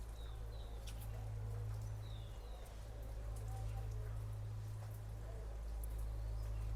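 Rain keeps falling steadily at Mount Abu after a night-long downpour, a soft, even patter heard from a terrace with a low steady hum underneath and faint bird chirps.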